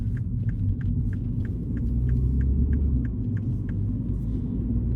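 Interior of a car with a 2-litre turbo engine on a test drive: a steady low rumble and road drone fill the cabin, with a regular ticking click repeating about every third of a second over it.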